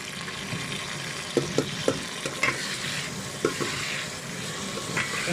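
Ginger-garlic paste and tomatoes for chicken keema fry in a pan with a steady, fairly quiet sizzle, broken by a few sharp clicks and scrapes of a spoon stirring.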